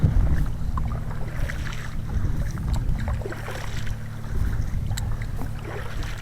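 A kayak paddler strokes out on the open sea, paddle splashes repeating under a constant rumble of wind buffeting the microphone and slapping water, with no voices.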